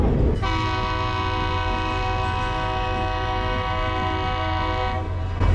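Train horn blaring on a passenger train in Africa, one long sustained loud multi-tone blast over the steady rumble of the moving train, close and alone without talk.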